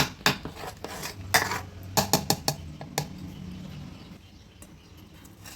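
Dhokla batter being stirred with two spoons of oil in a bowl, giving a series of spoon taps and clinks against the bowl, sharp and close, clustered in the first three seconds and then tapering off.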